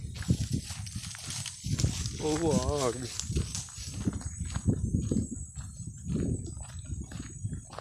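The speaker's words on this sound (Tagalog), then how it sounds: "Ayan, may kabayo. Ayan, oh, napakagandang kabayo." A horse walks along a rural road on a morning stroll, its hooves clip-clopping softly and steadily beneath continuous close talk and an excited exclamation.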